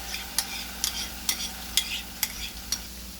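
Onion paste frying and being stirred in hot oil for mutter paneer, with a steady soft sizzle and about six sharp, regular scrapes of a spoon against the pan.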